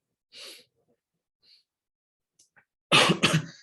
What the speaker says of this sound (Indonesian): Sorry, saya batuk sebentar.